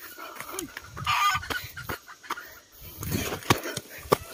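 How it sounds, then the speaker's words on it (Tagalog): Chickens clucking nearby in short bursts, several birds calling intermittently with sharp clucks and squawks, no voices. "Uy, mga manok."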